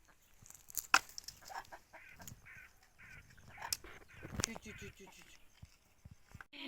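Chickens cluck and squawk close by in short, scattered calls while eating feed and bread, with a person talking quietly among them.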